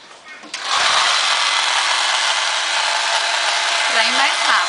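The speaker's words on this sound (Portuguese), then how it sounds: "Aqui eu seco no soprador." A heat gun blows hot air to dry freshly painted polka-dot chicken designs on a wooden frame, a steady loud whooshing roar that starts abruptly after a brief quieter moment and holds unbroken to the end.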